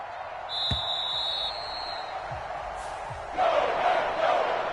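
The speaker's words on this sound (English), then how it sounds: "And the home crowd applauding." A home crowd in a PS4 sports video game applauds and cheers, swelling loudly near the end after a steadier murmur of arena noise, with a few sharp thuds earlier.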